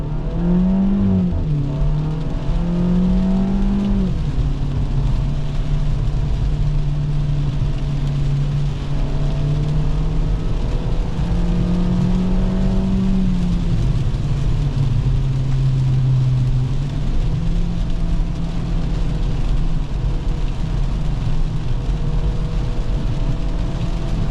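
A Hyundai Veloster Turbo accelerates hard on a test track, its engine note loud and close, rising through gears to near redline and dropping briefly at each shift, then sustaining a strained roar with no talking.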